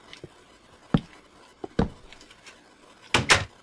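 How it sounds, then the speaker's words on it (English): Minecraft doors shutting inside a mansion build: a few separate short clicks and thumps spaced out, ending in a louder double clack, with no talk. "And now the doors are closed."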